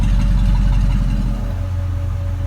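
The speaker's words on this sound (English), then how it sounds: "this is where we cut out or activate the exhaust cutouts." A V8-swapped Chevrolet S10 pickup idles with its exhaust cutouts open, a loud, steady deep rumble up close, with a slight drop in level partway through and no talking.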